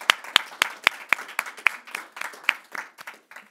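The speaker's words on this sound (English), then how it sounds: "I think they deserve an applause." A handful of people clap, with sharp, distinct claps at first in a quick rhythm, then thinning into softer, scattered clapping.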